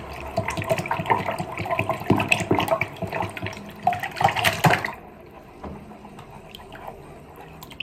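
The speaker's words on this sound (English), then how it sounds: "I'm gonna stir it up and see how brown it gets." Water in a tub being stirred by hand, with hair bundles added to soak, gives busy close sloshing and splashing for about five seconds, then settles into quieter dripping and faint trickles.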